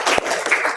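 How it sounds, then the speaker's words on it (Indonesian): Brief classroom applause for a student during a teaching session at a university, a short burst of clapping from a small group that fades quickly, with a voice briefly audible. "tepuk tangan untuk Mas Noval"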